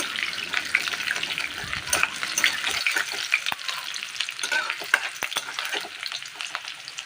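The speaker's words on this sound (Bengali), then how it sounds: "করে কিছুক্ষণ ভাজা করে নেব" Chopped garlic fries in hot mustard oil, giving a continuous close sizzle broken by scattered pops and a few scraping stirs.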